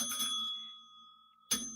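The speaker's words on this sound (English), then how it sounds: "ring that bell. Ring that bell." A single bright metallic bell ding rings out with a long sustained ringing tail, followed moments later by a second sharp strike, loud and alone with no talking.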